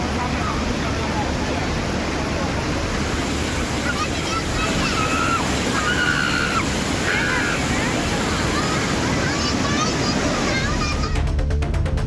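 River water spilling over a check dam after heavy rain, a loud continuous rushing roar throughout, with faint voices of bathers mixed in.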